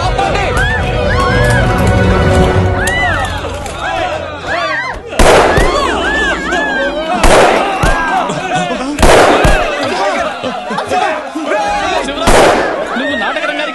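Gunfire in a Telugu movie scene, several loud sharp shots spaced a couple of seconds apart, cutting through shouting and frantic voices.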